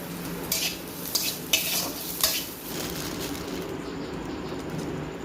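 Fuchka puris drop into hot oil one after another, four bright splashy bursts followed by an even, close sizzle with no talking.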